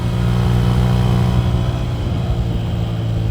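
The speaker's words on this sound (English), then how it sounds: "next thing behind me that's arriving very gently is a white GT3" A white Porsche GT3 closes in from behind on the Nürburgring Nordschleife, its engine a steady mid-pitched drone heard from a motorcycle with constant wind rush and no talk.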